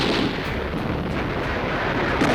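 Dense, continuous roar of enemy guns firing in a South Pacific jungle battle during World War II, loud and unbroken with rumbling low bursts throughout, no clear gaps between shots.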